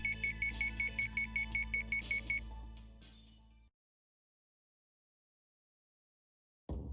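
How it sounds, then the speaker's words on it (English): Alarm on a bracelet in the visual novel Sweet Fuse: At Your Side rings loudly in a rapid repeating electronic beep pattern for several seconds, then cuts off into silence before a brief sound returns at the end. "At last the alarm from my bracelet went silent."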